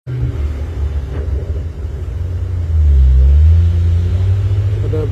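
A truck pulling a trailer that carries a tarped bus labours up the Bukit Kodok hill, its engine a heavy, close rumble that swells in load and pitch midway and stays loud to the end.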